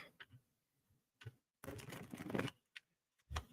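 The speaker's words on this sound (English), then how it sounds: "Let me shuffle my deck really quick." A deck of oracle cards being shuffled close by, quiet riffling bursts with a longer flurry in the middle, no talking.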